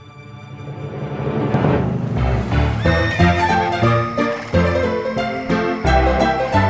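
A loud horse whinny rises over a dense musical score, with the neigh blending into the swelling music.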